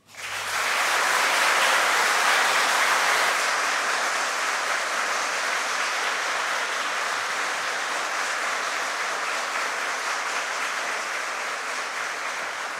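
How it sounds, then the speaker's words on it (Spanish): Sustained audience applause at a Supreme Court swearing-in ceremony for new lawyers, a dense, steady wash of many hands clapping that swells quickly and holds for over twelve seconds, tapering only slightly. "El público les puede brindar un merecido aplauso."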